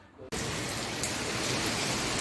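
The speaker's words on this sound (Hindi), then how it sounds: "बहुत ज़ोरदार बारिश हो रही है" Heavy rain begins suddenly and then pours down in a dense, constant, loud hiss, drumming on surfaces close by.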